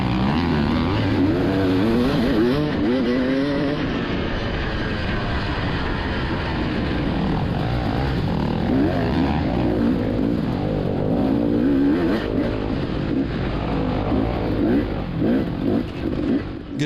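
Dirt bike engines in a hare scramble race through woods and single track, revving and accelerating loudly and up close, with another rider's bike passing and engine pitch rising and falling continuously.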